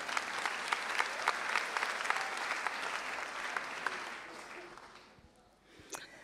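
Audience applause at a 24-7 Prayer gathering, a dense steady wash of many hands clapping that fades out toward the end, with a few sharper claps standing out.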